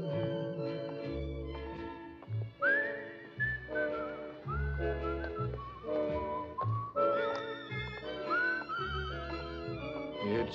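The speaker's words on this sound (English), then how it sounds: "It's a whistling tune" Whistled melody of the tune from the film Kid Galahad, a steady lilting line carried over a full band accompaniment with bass and rhythm, continuous for several bars.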